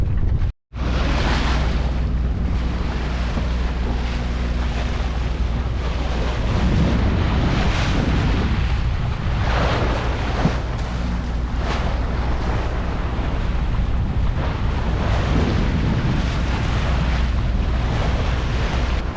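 Strong wind roaring at sea aboard an offshore sailing boat motoring into a headwind off the Azores, continuous heavy gusting and buffeting with wave wash and a low engine drone, close and loud throughout.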